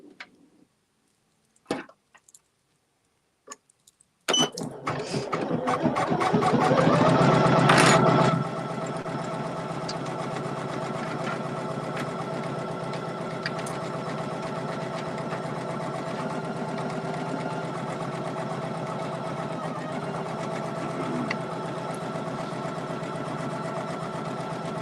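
Poolin EOC06 single needle embroidery machine starts after a few scattered clicks, rising into a loud burst and then settling into a steady, close mechanical hum with rapid rhythmic stitching that runs on unbroken.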